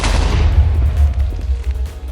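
A bed explodes during Minecraft bed PVP, a loud booming blast with a deep rumbling low end that stays heavy and rolling for about two seconds, with no voices over it.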